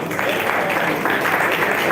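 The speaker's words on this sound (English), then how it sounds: "Please clap for that." A studio audience at a Nigerian tribute event applauds steadily, loud and dense, with many hands clapping together and no voices on top.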